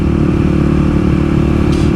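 A Kawasaki KLX300 dirt bike being ridden, a loud, steady low engine drone with a rough rumbling texture held throughout, close to the microphone.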